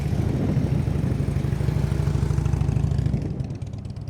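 A motorcycle engine runs continuously and close by during slow-speed riding practice, with a throaty low drone and small rev fluctuations. Near the end the engine tone drops away as it eases off.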